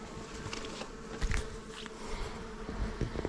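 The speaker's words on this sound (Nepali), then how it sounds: "मौरी पो छ त।" A bee buzzes close by in a village on a Dolpa trek in Nepal. The drone is continuous and rises briefly as it passes near, with no talking.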